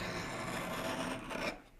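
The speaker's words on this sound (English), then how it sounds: "And on these coarse stones, you can really bear down hard." A Ka-Bar knife blade is pressed hard and drawn across a coarse sharpening stone, producing one continuous gritty rasp that stops abruptly near the end, quiet and close.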